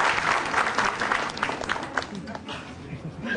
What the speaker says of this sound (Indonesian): kita beri tepuk tangan untuk komik selanjutnya